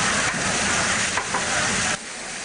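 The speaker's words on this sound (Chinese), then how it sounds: "煎的外酥内嫩的厚实牛肉，一片就有五盎司" Thick five-ounce beef burger patties fry loudly on a hot griddle, a dense crackling sizzle with scraping bursts that drops in level near the end, no voices present.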